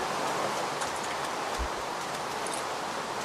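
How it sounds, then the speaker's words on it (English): Steady rain falls in the blocky survival game Minecraft, a soft even hiss of drops with a faint low thump partway through, continuous and moderately quiet, with no voices. "Rain, go away."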